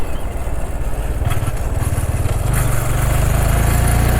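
A 2022 Honda Grom small motorcycle engine runs loud and close, its low rapid thumping pulse steady and then deepening into a stronger rumble as it pulls.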